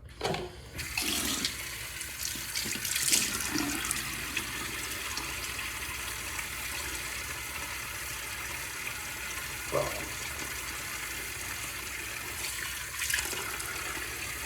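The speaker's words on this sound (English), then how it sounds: "John, let me get my face wet." A bathroom tap runs steadily as someone wets their face before a shave, a quiet continuous flow of water with a few brief splashes near the start.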